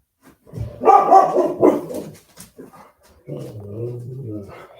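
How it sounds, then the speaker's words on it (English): Dogs barking nearby in bursts, several loud yelps in the first couple of seconds, followed by a quieter stretch where someone speaks over lingering background noise. "Sorry about the dogs barking."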